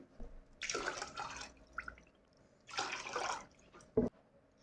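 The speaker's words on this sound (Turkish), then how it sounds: "Üzerine 3 su bardağı su ilave ediyorum." Three glasses of water poured over granulated sugar in a pot to make syrup for mussel-shaped baklava: two short, quiet splashing pours, then a faint clink.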